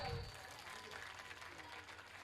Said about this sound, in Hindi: सबसे पहले पूरी टीम के लिए तालियां दो,